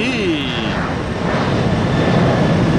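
Airplane on the runway at Tampa International Airport, a broad, steady engine roar with a falling whine early on, loud and continuous, with a voice talking over it.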